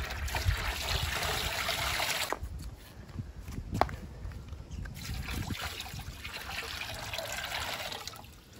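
Water pours steadily into a container being filled up to about nine liters for flushing a yacht engine heat exchanger, a continuous close splashing trickle with a brief dip partway through.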